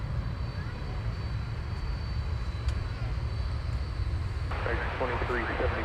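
A UPS Boeing 767 airliner at DFW airport, a steady broad roar of jet engines heard at a distance across the whole stretch, with a voice talking over it near the end.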